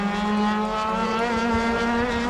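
A USAC midget race car runs its qualifying lap at I-70 Speedway, a steady high-pitched engine drone held loud and unbroken, with no talking.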